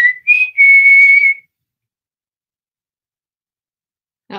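Someone whistles indoors to call for a person, giving a short rising note and then a longer sustained one, followed by silence with no answering whistle and a brief bit of talk at the end.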